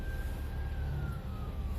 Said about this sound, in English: Oh, ambulance coming.